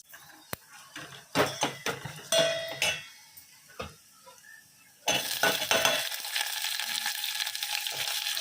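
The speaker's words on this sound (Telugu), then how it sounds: "ఉల్లిపాయలు బాగా ఎర్రగా కొద్దిగా వేపుకోవాలండి." Onions frying in oil in a pan for Bengali dal, with clinks and scrapes of a utensil against the pan at first, then a steady, fairly loud sizzle that carries on alone.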